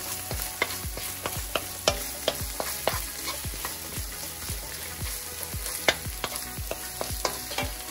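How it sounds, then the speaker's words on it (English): Garlic sizzles in hot extra virgin olive oil in a pan while a utensil strikes the pan in a quick, regular rhythm, close and clear with steady frying hiss underneath. "sizzling away bloody nice there. Gonna throw a little garlic in"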